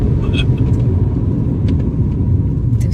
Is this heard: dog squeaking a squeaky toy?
no